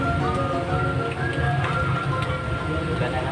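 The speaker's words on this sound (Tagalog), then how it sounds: "Ulan na naman." Steady rain patters with a constant hiss, with faint tonal hums underneath, fairly loud and continuous.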